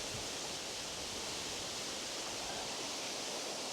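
Waterfall in Alva Glen, Scotland, heard as a constant, dense broadband rush of falling water, loud and unbroken throughout.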